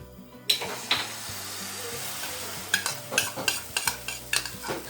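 Omelette mixture poured into a hot pan and frying, with a soft continuous sizzle and repeated light scraping and tapping of a utensil against the pan, close by.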